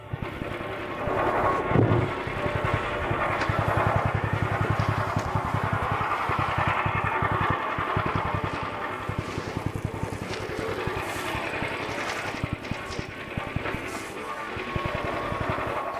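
A mini tractor engine hauls a cart loaded with nine bags through snow and mud, running in a continuous loud rumbling drone with a fast chugging pulse, close by and steady throughout, with no talking.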